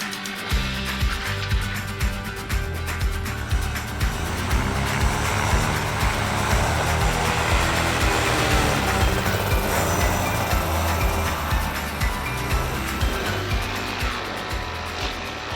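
A Limitless paramotor engine revs loud and close, holding a steady roaring drone that swells slightly through the middle. It runs alone with no talk over it.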